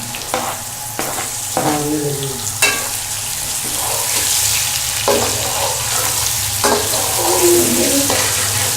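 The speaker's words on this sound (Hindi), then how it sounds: "तकरीबन 5 मिनट हम इसको थोड़ा सा फ्राई करेंगे।" Small pieces of chicken gizzard fry in a pan, giving a loud, steady sizzle with repeated scraping stirs of a spatula, close up.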